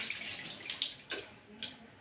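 Almonds are washed in water in a home kitchen: running water splashes and sloshes with a few soft surges, close by and fairly quiet, with no voices.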